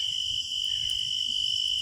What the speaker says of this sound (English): Because right now all I hear is crickets.